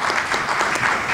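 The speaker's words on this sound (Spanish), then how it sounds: "un aplauso para él, por favor" At a medical forum in Peru, an audience gives an appreciative round of applause, dense steady clapping from a crowd, fairly loud and sustained throughout the brief moment.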